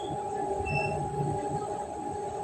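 Madgaon Tamil Nadu Express passenger train at Chandigarh junction, heard as a steady low rumble with a sustained metallic hum and faint squealing tones, continuous and moderately close with no voices.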